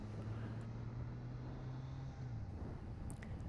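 A 2023 Triumph Trident motorcycle ridden along a faster stretch of road, its engine droning steadily under heavy wind rush at the microphone, the pitch dropping slightly near the end.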